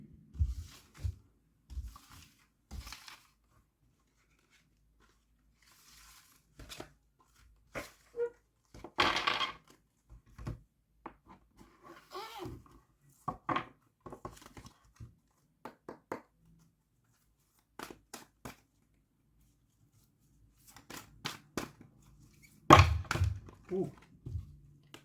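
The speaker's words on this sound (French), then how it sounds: "je vais maintenant vous tirer une petite carte conseil pour le mois de juillet avec le tarot des fées" Fairy tarot cards being shuffled and drawn, with soft thunks, taps and brief rustles of handled cards spread irregularly across the clip, close and fairly quiet, with short pauses between bursts.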